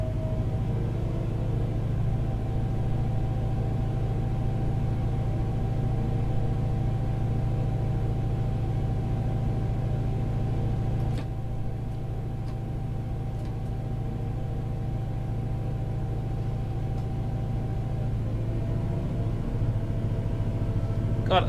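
A Class 68 diesel locomotive in Train Sim 2020 drones steadily, its low, even engine rumble holding close and loud as it climbs a gradient, with only slight shifts in tone.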